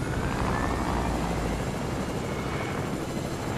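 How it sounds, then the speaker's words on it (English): A helicopter in the video game Fortnite, heard as a steady, loud rotor-and-engine roar that fills the whole short moment close up, with no voices. "I'm going for the helicopter."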